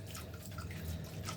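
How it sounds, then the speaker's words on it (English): Cold tap water running over freshly drained nettles in a kitchen sink, a brief close splashing and dripping flow, steady and fairly quiet. "we're now rinsing with cold water"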